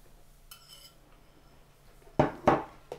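Cookie dough beaten in a bowl, a couple of close, sharp clinking strokes of utensil against the bowl after a quiet stretch with a faint tonal ring early on.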